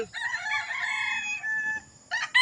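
Rooster crowing close by in a yard with chickens, giving one loud, drawn-out cock-a-doodle-doo followed by a brief start of another call.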